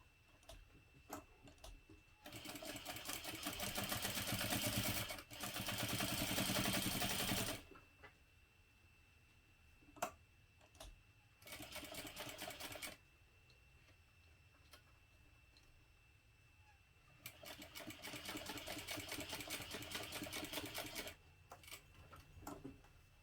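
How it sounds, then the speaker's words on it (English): A sewing machine top stitches along the long edges of a folded fabric piece for a backpack, running in three sustained bursts with quiet pauses and soft clicks between them. "now we're just going to top stitch along each long edge"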